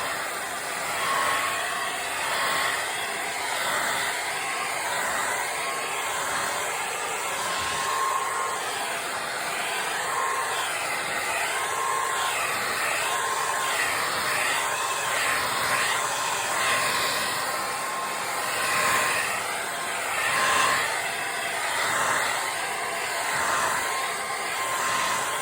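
A pink handheld hair dryer blows over wet acrylic paint on a canvas, making a steady, fairly loud whirring rush of fan and air that holds almost unchanged throughout, with no speech.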